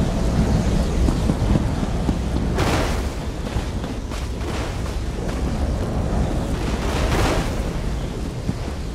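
A loud thunder and lightning storm in the video game Elder Scrolls Online, around Southpoint, with deep rolling rumbles under steady rain noise and sharp cracks at intervals, no speech.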